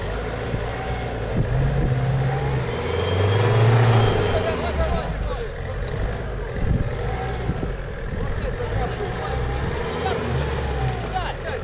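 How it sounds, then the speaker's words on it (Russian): An off-road car's engine revs hard and repeatedly while the vehicle sits dug in and stuck, loud and close, with people shouting and talking over the roar. "Не газуй, Толь, не газуй!"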